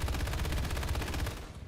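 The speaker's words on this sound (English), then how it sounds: "I'm gonna try to shoot behind me" Rapid machine-gun fire from a vehicle in the War Thunder video game, a dense, steady stream of loud close shots that ends abruptly.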